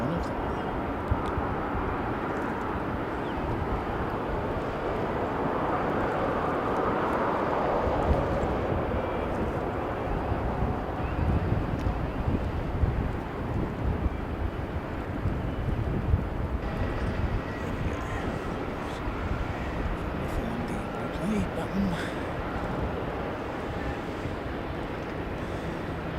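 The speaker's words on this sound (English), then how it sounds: "I've seen a number of A380s today, and this is one of them" An Airbus A380 airliner passes at Sydney airport, a steady loud jet roar and rumble filling the whole stretch, with wind buffeting the microphone throughout and no clear voices.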